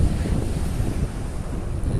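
Steady, loud wind rushing and buffeting the microphone, with a dull roar of surf underneath and no pauses, at a beach in Salalah, Oman.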